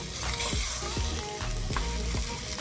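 About a kilo of chicken hits hot oil and a little butter in a pot, crackling and sizzling steadily up close, with several stirring scrapes along the pot, no talking.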